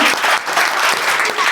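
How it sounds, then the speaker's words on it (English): A brief burst of audience clapping at a religious talk, a close, loud, fairly even patter of many hands lasting under two seconds. "We'll clap Mataji once."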